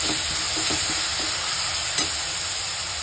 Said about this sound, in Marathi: आणि हे जे ठेचा केलेला आहे तो टाकून घ्यायचा, बारीक करायचा गॅस, थोडंसं परतून घ्यायचं हे ठेचा